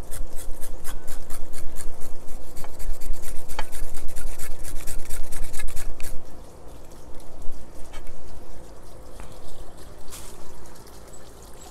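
Oregon grape roots are shaved into shavings with close, loud, rhythmic rasping strokes for about six seconds, followed by slower, irregular scraping.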